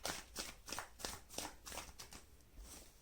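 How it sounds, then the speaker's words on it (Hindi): Tarot cards shuffled and pulled by hand, a quiet run of about eight crisp riffling snaps at a steady, quick rhythm, close but faint, with no talking. "पहले आप लोग के पुल कर देती हूँ मैं कुछ कार्ड्स"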